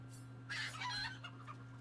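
A video-game chicken clucks and crows in a quick, animated burst over a steady electronic hum, with no talk over it; the calls are close and fairly clear.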